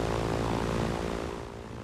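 Propeller airplane engine droning steadily in flight in the video game Far Cry 4, a loud continuous hum with strong low harmonics that fades slightly toward the end.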